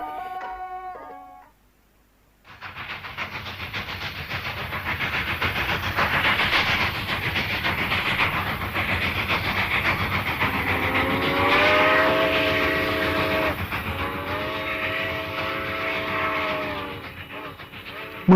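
A train pulls out of Wang Tong station with loud, continuous rumbling and hissing steam, then a long, drawn-out whistle sounds in two prolonged blasts over the running noise.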